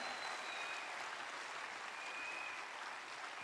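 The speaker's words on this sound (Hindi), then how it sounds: "एक बार जोरदार तालियां" A seminar audience bursts into loud, sustained applause at a DXN India motivational talk. The dense, steady clapping fills the room without letup.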